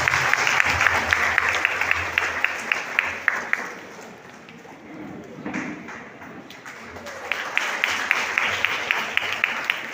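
Applause from an audience at a Coimbatore education festival, a steady patter of clapping that dips in the middle and swells again, with sharp individual claps standing out and a murmur of voices beneath.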